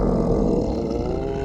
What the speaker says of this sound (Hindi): अच्छा, ये पेट की आवाज थी।